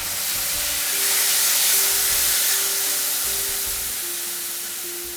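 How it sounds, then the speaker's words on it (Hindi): Finely chopped tomatoes sizzling in a pan for dhaba-style dal tadka, a continuous hissing fry with soft stirring thumps, fairly close and without talk. "अब जाएंगे इसके अंदर 2 बारीक कटे हुए टमाटर।"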